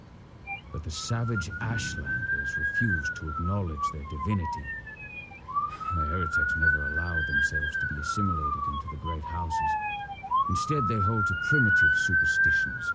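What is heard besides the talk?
siren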